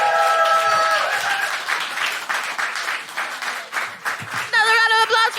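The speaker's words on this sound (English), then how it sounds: "round of applause for Isabelle" Applause and clapping from a comedy club audience, rising and falling under a performer's amplified talk, with a burst of fast clapping and cheering near the end.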